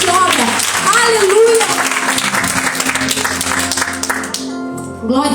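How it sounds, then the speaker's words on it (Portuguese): Church congregation applauding during a worship service, dense clapping under loud singing and an amplified voice, fading out abruptly near the end. "você pode aplaudir ao Senhor"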